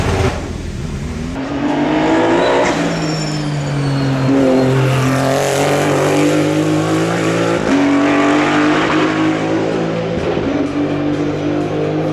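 An Aston Martin Valkyrie's engine screams on a race track, loud high-pitched revving that climbs and falls through gear changes as the car passes close, with faint tyre noise.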